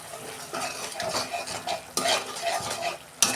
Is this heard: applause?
no